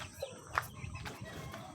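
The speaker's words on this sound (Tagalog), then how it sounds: "Ayan. Ating mga manok." Farm chickens cluck softly while feeding, with a few scattered faint clucks and pecking sounds close by in an otherwise quiet yard, no voices.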